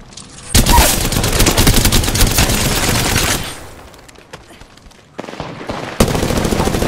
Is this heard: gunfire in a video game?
yes